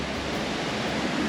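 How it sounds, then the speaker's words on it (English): Steady rushing roar of a waterfall at the Highland Titles nature reserve, a dense even wash of falling water heard up close with no voices. "Overlooking the waterfall."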